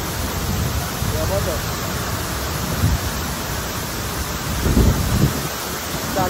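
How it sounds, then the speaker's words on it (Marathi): A village waterfall in the Konkan region near Dhopeshwar, a steady, dense broadband roar of falling water filling the scene, with a person briefly speaking over it. "गावात वॉटरफॉल."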